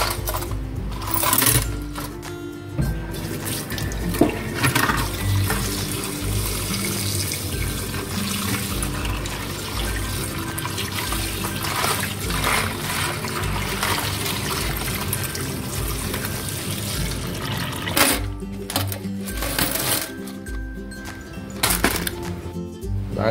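Tap water runs steadily while coins cleaned with ketchup are rinsed at a sink, a continuous splashing wash that carries on unbroken for the full length with no talk over it.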